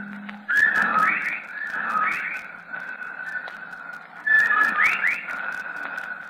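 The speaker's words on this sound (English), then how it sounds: "Listen, he's whistling time with his breathing now." Wavering whistling tones rise and fall in repeated swells, pausing and returning in a slow rhythm, with faint background noise and no talking.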